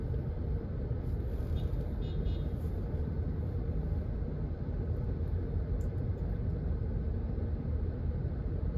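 Steady, dense road rumble from inside a car driving from Ayala Alabang toward Skyway in Muntinlupa, a continuous low engine and tire drone with no distinct passing vehicles.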